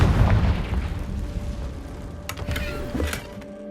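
A Confringo blasting spell goes off in Hogwarts Legacy with a deep, rumbling boom that fades out over a few seconds, followed by some sharp crackling pops near the end.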